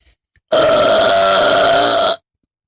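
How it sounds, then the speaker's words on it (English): A single long, loud burp in a burping contest, close to the mic and sustained for about a second and a half between short silences, with no talk over it. "But is it as awesome as my burp?"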